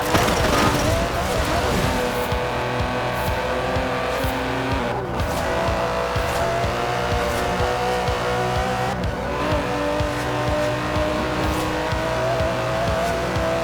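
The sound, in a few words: Aston Martin DB11 V12 car driving, Forza Horizon 4 video game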